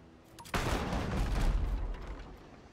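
Ship cannons firing in a pirate video game: one sudden loud blast sets off a dense, rumbling roll of gunfire that holds steady for about two seconds, then thins out.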